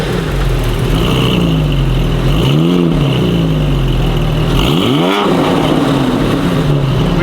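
A 997-generation Porsche 911 Carrera S with a new, lighter FabSpeed exhaust revs loudly and close by, two rising blips climbing and falling over a steady idle rumble, with no talk.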